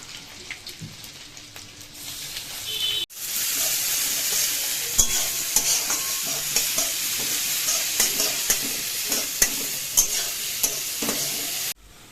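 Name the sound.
frying beetroot with ginger and chilli in a pan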